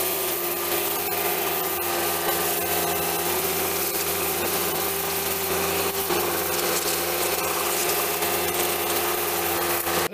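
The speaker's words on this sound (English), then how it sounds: "Now that we've loosened up, we'll hit it with our cheap pressure washer." A cheap pressure washer spraying caked-on lichen off a 1977 Chevy Impala, a loud steady hiss of water blast over a continuous motor drone, unbroken throughout.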